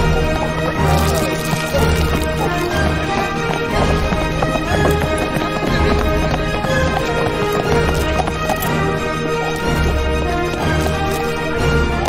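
Horses resting at an endurance ride checkpoint, hooves clip-clopping in an irregular stream of close, loud thuds over a dense, busy outdoor background.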